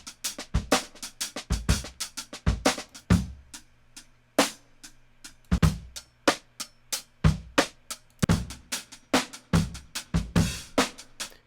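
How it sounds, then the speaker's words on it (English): A live-recorded drum loop plays alone with punchy kick hits and sharp snare and cymbal strikes in a steady repeating boom-bap rhythm, loud and close. "some live drum loops might sound something like this."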